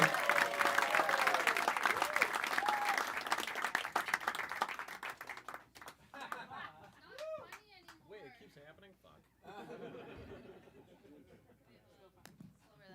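Audience applause and clapping at a pop-up comedy show, loud and dense for the first five seconds then thinning into scattered claps and chatter as a comedian starts talking.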